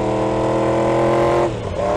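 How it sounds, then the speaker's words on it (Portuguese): A Yamaha R1 sport motorcycle from 2016 roars steadily on a ride, its dense engine tone holding loud and close before dipping briefly near the end. "o ronco da moto não dá pra ter noção pelo vídeo"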